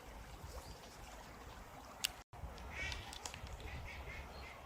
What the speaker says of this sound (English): there's a load of ducks just landing there.